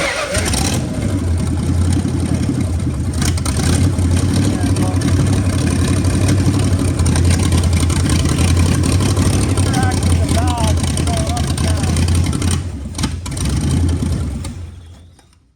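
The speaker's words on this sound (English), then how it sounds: "now hopefully we'll idle for a second since there's some fuel in there" A rebuilt car's engine, just refuelled, turns over and runs with a loud, close, rough rumble that holds steady for several seconds before fading out, with a voice speaking over it.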